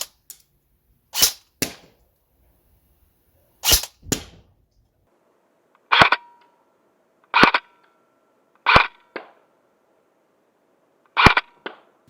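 Sharp, close airsoft gun shots fired at targets with a scoped rifle from roughly 45 to 60 feet, about nine distinct cracks spaced a second or two apart, some with a faint ping of impact following.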